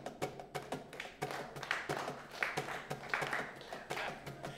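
Festival crowd at a coffee harvest celebration clapping along in a steady rhythm, repeated sharp claps fairly close with some scattered taps and faint background sound.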